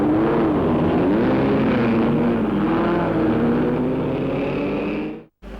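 Lotus Climax sports racing cars at Mallory Park, a loud sustained engine roar with wavering pitch as they pass, cutting off abruptly near the end.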